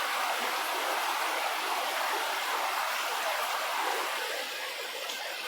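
The Mandakini river flowing through a secluded Chitrakoot forest, a steady broadband rush of moving water, close and even throughout, with no voices.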